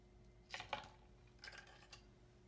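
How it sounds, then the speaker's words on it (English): Ice cubes clatter into a glass during iced coffee preparation, two clustered bursts of clinks followed by a softer rattle, fairly quiet and without talk. "I put ice in the glass"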